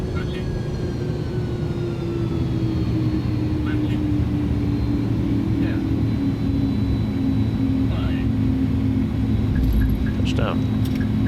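An Inibuilds A310 airliner touches down at Kai Tak in a flight simulator at night, a steady loud engine and rolling rumble with a low whine and faint clicks, no distinct thump.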